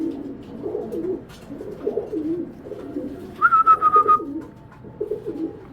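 Pigeons at a Bangladeshi breeder's loft coo in repeated low, rolling phrases close by, with a brief higher whistling tone partway through and the throaty calls resuming afterward.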